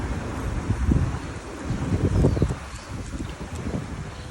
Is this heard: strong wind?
yes